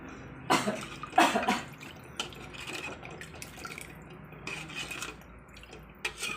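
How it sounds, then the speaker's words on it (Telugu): Water poured into a pot of fish curry being made to feed twelve dogs, with a couple of loud splashing bursts near the start and a quieter trickle and clatter of pot and utensils afterward, close by and without talk. "కొంచెం వాటర్ ఎక్కువ పోస్తున్నా"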